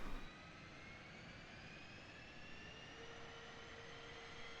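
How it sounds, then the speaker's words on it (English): An F-15E Strike Eagle's jet engine spools up in the DCS flight simulator, a quiet steady roar with a thin rising whine sweeping upward, distant and faint with no voices. "And now we should observe throttle coming up. Well, RPM coming up."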